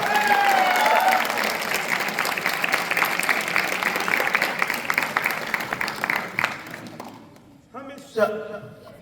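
Loud, dense audience applause at an Independence Day kavi sammelan poetry event at NIT Rourkela, a steady wash of clapping that thins out near the end, with a few voices and thuds breaking through.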